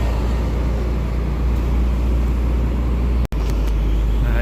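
Car engine labouring up a steep incline with tight bends, shifted down from fifth gear to fourth, a loud continuous low drone with a brief cut-out near the end, heard from inside the car.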